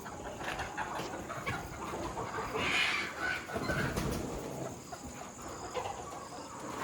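Country chickens in a parent-stock shed at evening, clucking and calling in a steady, busy chorus at close to middle distance, with a faint constant hum underneath.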